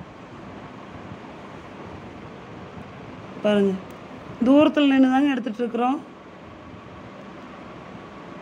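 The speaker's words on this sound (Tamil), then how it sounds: "ரெண்டு மதகு விட்டு ஒவ்வொரு மதகில் வந்துட்டுருக்குங்க." Water released through the sluice gates of Mettur dam in Salem makes a steady, distant roaring rush heard from far off, with someone talking over it partway through.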